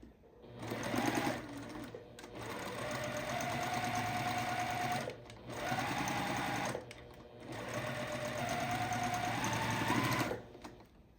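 A sewing machine stitches quilt block pieces in three long, steady runs with brief pauses between them, close and fairly quiet.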